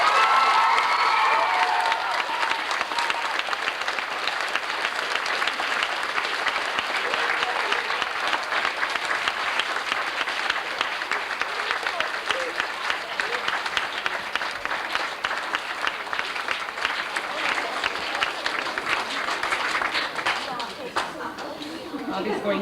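Audience applause for a school class winner and school champion at an award ceremony, a dense, steady clapping from a large crowd lasting over twenty seconds, with light cheering and chatter mixed in.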